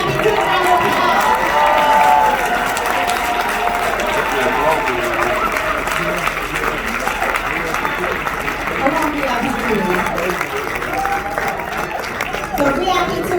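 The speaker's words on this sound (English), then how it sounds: "Can you go VIP 2 round of applause?" A hotel event audience applauds for VIP 2 with sustained, dense clapping and crowd noise that fills the whole stretch at steady loudness, with cheering and voices mixed in.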